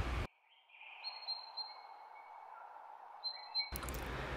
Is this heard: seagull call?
yes